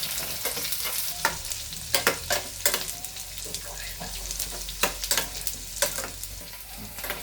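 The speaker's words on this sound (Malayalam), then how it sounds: "അത് നമുക്കൊന്ന് ഇളക്കി ഒന്ന് മൊരിയിടം വരെ ഇളക്കി കൊടുക്കാം" Plantain and prawn thoran with small onions is stirred in a hot pan until crisp: a steady frying sizzle broken by sharp, repeated scrapes and knocks of the spoon, close and fairly quiet, with no voices.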